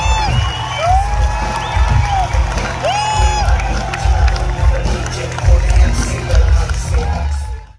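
Large crowd shouting and cheering, captured on a smartphone's video camera at 5x optical zoom; whoops and yells rise and fall continuously over a dense roar, with a few rising voice calls, fading out sharply at the end.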